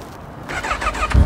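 A Honda CB1000 motorcycle engine starts: a brief whirring crank, then a deeper burst as it catches, close and fairly loud.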